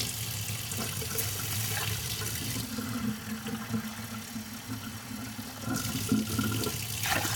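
Water runs and pours steadily into a pot of basmati rice in a home kitchen, at a ratio of two cups of water per cup of rice, a continuous close splashing rush with a low hum underneath.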